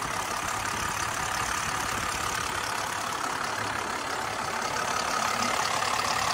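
A Dodge Cummins turbodiesel truck engine idles steadily up close, a continuous low rumbling drone with a coarse diesel clatter that holds even throughout, with no one talking.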